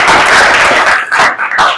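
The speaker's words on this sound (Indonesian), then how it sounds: "Tepuk tangan." Classroom applause, students clapping hands together at the close of a school lesson; dense, loud clapping fills the first second, then breaks into a few scattered bursts that fade.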